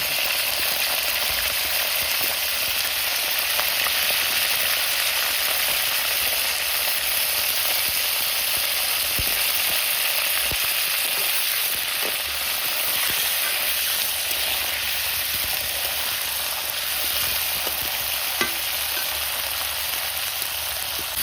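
Cabbage frying in hot oil in a home kitchen, giving a steady, continuous sizzle and crackle that holds evenly throughout, with occasional faint stirring clicks and no speech.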